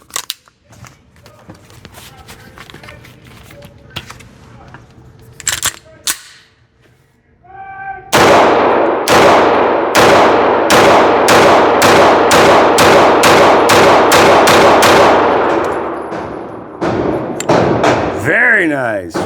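FN Reflex XL compact pistol fired in a rapid string of about a dozen sharp, loud shots at close range, evenly spaced, after a few quieter clicks and handling noises.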